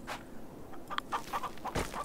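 Chickens cluck in the farming video game Farm Together 2, several short, soft clucks scattered over a steady low background, with no one talking.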